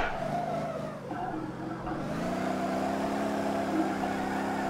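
A car in the Motor Town: Behind The Wheel racing game drifts around a race track, its engine droning loud and steady with a pitch shift as it revs and slides, tire noise blending in, no voices.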